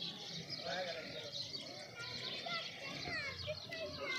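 A herd of goats of the Hotal Bital breed bleating in scattered calls, close and overlapping, mixed with children and people talking in the background.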